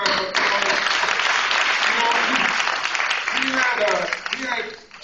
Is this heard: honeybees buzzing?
no